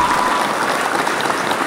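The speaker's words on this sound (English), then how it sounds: "Clap for us." A small group claps together in a short, steady burst of applause, close and lively, with faint voices mixed underneath.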